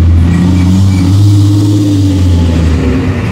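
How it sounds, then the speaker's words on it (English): A loud UPS delivery truck rumbles close by and passes, its heavy low engine drone swelling and holding steady for a few seconds with no talking over it. "Sorry for the loud truck, everyone. That's the UPS truck."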